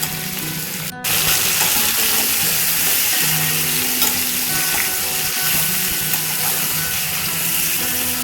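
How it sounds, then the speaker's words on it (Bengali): Vegetables seasoned with turmeric and salt fry steadily in a pan, a continuous crackling sizzle with scraping and stirring clatter throughout, no talking. "ভালো করে সবজিগুলো ভাজা ভাজা করে নেব"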